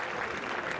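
A tennis crowd applauds Carlos Alcaraz's lob on the run, a brief, even wash of clapping at moderate volume.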